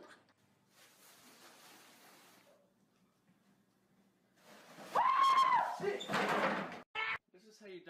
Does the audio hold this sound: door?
yes